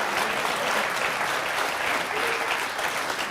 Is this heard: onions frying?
no